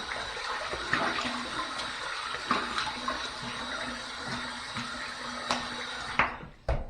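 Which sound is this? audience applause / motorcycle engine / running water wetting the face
running water wetting the face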